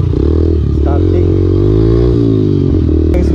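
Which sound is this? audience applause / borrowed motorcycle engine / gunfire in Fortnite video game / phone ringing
borrowed motorcycle engine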